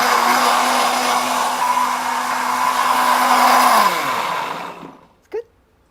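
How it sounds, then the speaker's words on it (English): A blender whirs steadily on a falafel mixture, blending at a close, loud, even drone for about four seconds before winding down to a stop, followed by a brief knock. "And so we blend until we get a creamy texture like this."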